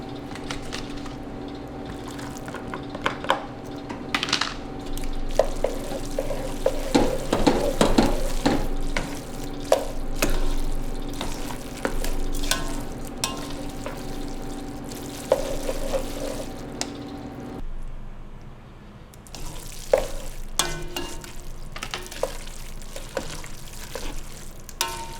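Mushrooms frying and being stirred in a pan for linguine, with a steady sizzle and scattered scraping and clinking from stirring running throughout, loud and close.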